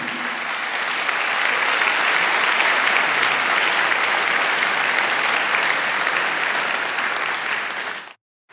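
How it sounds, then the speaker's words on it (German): An audience at a conference lecture on digitalization and mobile radiation bursts into loud, continuous applause after the talk. The applause holds steady for about eight seconds, then cuts off abruptly. "Applaus"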